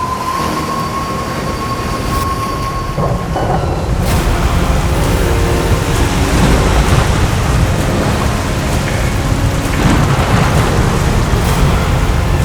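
Heavy rain and rolling thunder pour down over a train pushing forward toward Dhanushkodi, with a dense, continuous roar and deep low rumbling throughout, loud and steady with no voices.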